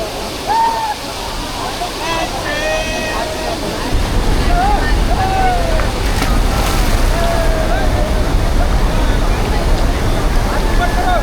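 Forceful water rushes at Solanpada Dam in a loud, continuous roar that grows heavier partway through, with people's voices calling out over it.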